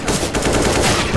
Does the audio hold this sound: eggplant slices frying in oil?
no